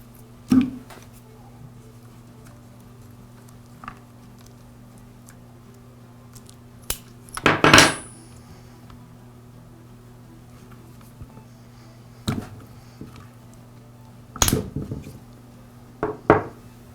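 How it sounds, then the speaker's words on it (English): Small clicks, snaps and plastic knocks from pulling the throttle cable and fuel lines off a string trimmer carburetor on an Echo unit, scattered across the clip with a few louder bursts and a steady low hum behind them. "Now I'll remove the throttle cable and the fuel lines from the carburetor."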